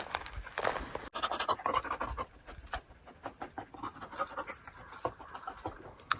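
A dog pants close by, quick rhythmic breaths in bursts with a brief clunk near the start, loud and near, over light outdoor background noise.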